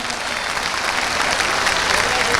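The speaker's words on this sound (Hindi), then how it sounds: "अरे ताली तो बजा दो" Traders gathered at an election campaign rally in a market clap together in dense, continuous applause that fills the short moment from start to end.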